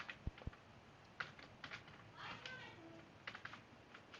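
Keys tapped on a computer keyboard in a few short, quiet bursts of clicks, close and fairly soft, with a couple of sharper taps near the start.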